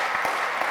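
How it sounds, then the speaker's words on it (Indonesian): Dense, steady applause from a church congregation clapping for its volunteers during a Sunday worship service in Tokyo, with a continuous wash of many hands filling the room. "Berikan tepuk tangan untuk volunteer semuanya."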